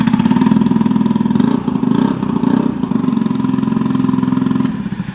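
A Honda Ruckus scooter with a cleaned carburetor and aftermarket exhaust runs loud and close, its small engine droning steadily with a brief dip and rise in revs midway.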